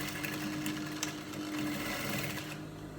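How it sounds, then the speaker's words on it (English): A sewing machine runs steadily while stitching a cowl neck on a top, a close, continuous motor hum with a faint rhythmic needle patter throughout. "I'm going to put it in between the neck here, in between here, and sew it."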